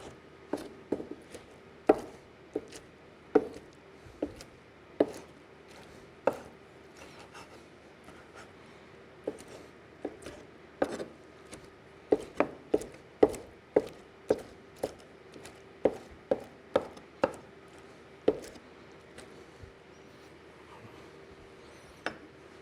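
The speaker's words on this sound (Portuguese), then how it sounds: "Eu vou picar essa linguiça bem pequena" A knife chops linguiça sausage into small pieces on a cutting board, sharp close thuds landing in irregular bursts with short pauses between runs.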